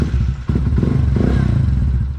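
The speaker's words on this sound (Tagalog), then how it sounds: "Napainit ko na rin yung kanyang makina." A warmed-up motorcycle engine idles close by with a steady low rumble and rhythmic chugging, and a couple of dull knocks stand out, with no voices.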